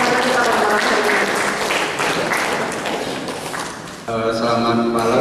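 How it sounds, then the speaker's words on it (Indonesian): An audience at an evening poetry event gives a dense, sustained round of applause for the speakers and moderator, with a voice talking over it and the clapping fading near the end. "Kita beri tepuk tangan untuk pembicara dan moderator kita pada malam hari ini."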